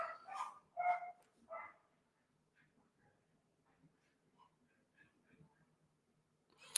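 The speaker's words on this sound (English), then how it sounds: "I hear dogs barking." A few dogs bark in a few quick yaps at the start, somewhat distant and not very loud, then fade into a quiet, faintly noisy lull before a final burst.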